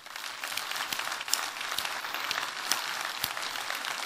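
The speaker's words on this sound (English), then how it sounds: "Let's give both of those guys a round of applause." At the opening general session of a telecom association conference, the audience gives a round of applause, a continuous, fairly close patter of many hands clapping without talk.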